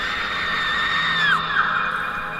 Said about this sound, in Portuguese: E em seu quarto ela dá o seu último grito.